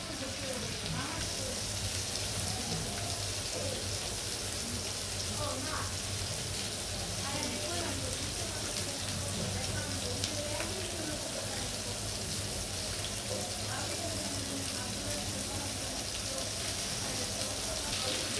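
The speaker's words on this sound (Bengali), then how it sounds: "আমি এখন একটু ভাজবো।" Pieces of rohu fish fry in oil for a fish curry, producing a loud, continuous dense sizzle that holds steady throughout.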